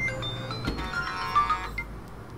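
A phone in the game Car Mechanic Simulator 2018 rings with a bright electronic ringtone, a short melodic burst of tones that fades after about a second over a low background hum.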